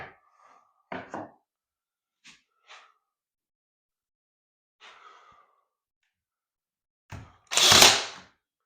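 A Bauer brad nailer fires nails into wood: a few short separate pops spaced apart with quiet between, then a louder burst with a hissing blast near the end, close by.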